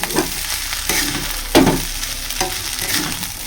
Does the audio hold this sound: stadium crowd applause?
no